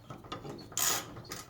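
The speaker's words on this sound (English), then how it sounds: "And since I have my ratchet," Ratchet driving a Phillips screw into a garage door, a few soft clicking ratchet strokes followed by one brighter rasping burst, close but quiet, with no talking.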